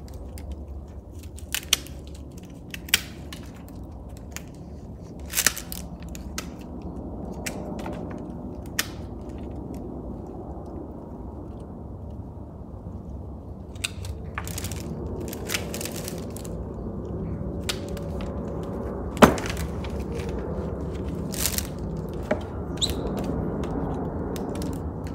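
Roots of a Japanese maple being cut, with scattered crisp snips and crunchy clicks at irregular intervals over a quiet, faint background rustle.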